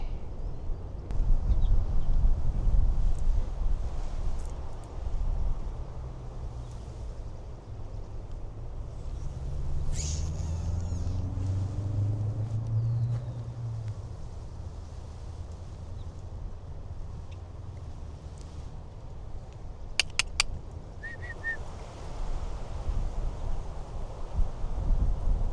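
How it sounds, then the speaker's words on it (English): Steady outdoor wind roars low and continuous near a tree, with broadband rumble throughout and a few brief faint chirps or clicks late on. "Okay, a lot of wind"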